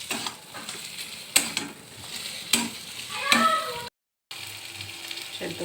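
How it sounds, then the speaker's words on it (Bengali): A fish head frying in oil in a pan for mung dal, with sizzling under repeated scraping and stirring strokes, several distinct spatula knocks, and a brief silent gap near the end. "মাছের মাথাটা দিয়ে দিলাম, এটা একটু ভেঙে নিলাম, একটু ভাজাভাজি করে নিচ্ছি।"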